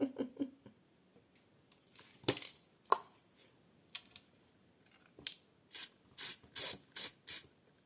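An aerosol spray can sprays onto a Fairy village model in short bursts, a few quick hisses followed by a run of about six rhythmic close sprays, with light clicks and handling sounds between them.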